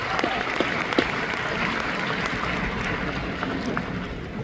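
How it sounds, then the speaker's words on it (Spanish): An audience at a convention claps steadily to welcome a couple on stage, a dense, even wash of applause that holds at a constant level throughout. "Vamos a recibir a John y Janet Wilson con un aplauso."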